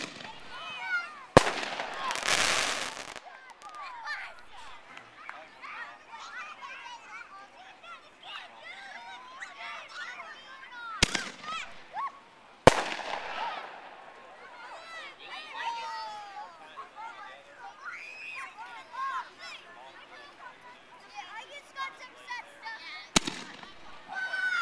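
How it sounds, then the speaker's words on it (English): Big Brutus artillery shell fireworks bursting outdoors, several sharp loud booms spaced seconds apart with crackling tails, while people chatter and call out in between. "How about them fireworks?"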